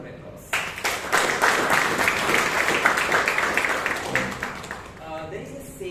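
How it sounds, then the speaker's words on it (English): Audience applause at a Toastmasters meeting in Bangalore, a dense round of many hands clapping at moderate volume that swells quickly, holds steady for several seconds, then thins out with a few trailing claps. "Let's give all the tag team players a good round of applause."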